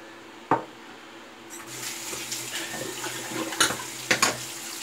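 Water runs steadily from a bathroom tap while someone rinses off after a shave, with a continuous splashing hiss broken by a few sharp, close splashes and clatters.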